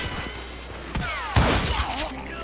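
Gunshots in the Western shooter Call of Juarez: Gunslinger, several sharp loud reports with ricochet whines and thuds spaced over a couple of seconds, close up amid game effects.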